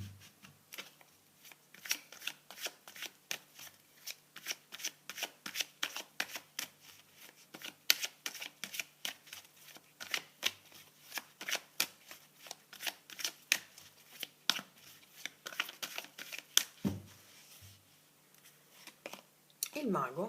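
Tarot cards being shuffled in close, rapid bursts of crisp riffling clicks, continuing steadily throughout with brief pauses, with no talk over them.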